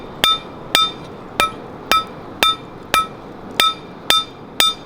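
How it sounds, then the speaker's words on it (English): A hand hammer forges steel for a spoon carving knife: nine evenly spaced, ringing metallic strikes, close and loud, each with a short decay, and no voices. "I'm pulling the metal underneath my hammer, making sure that it's curving the right way we want it to."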